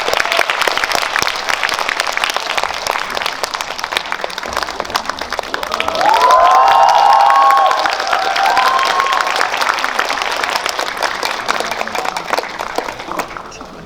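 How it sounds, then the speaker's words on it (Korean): A theatre audience at a CGV Yeongdeungpo film screening talk, welcoming the director and actors of 'PMC: The Bunker', bursts into steady, dense applause with whistles and cheers swelling midway, then gradually thinning out. "박수 한번 해주세요"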